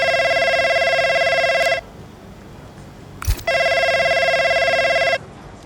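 A telephone rings in the F1 25 racing game, two long electronic ringing bursts separated by a short pause, loud and close with no talking.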